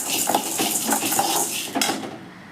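Chana dal roasting in a pan while being stirred with a metal spoon, giving close scraping and clinking against the pan with a dry rattle of lentils, alone with no talk.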